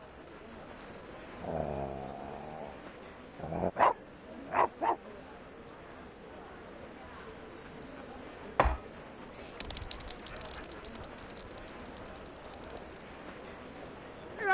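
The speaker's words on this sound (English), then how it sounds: "Wait, look at that dog!" A border collie in a video game cutscene gives a few sharp barks and whimpers among soft background ambience, the yelps brief and spaced apart.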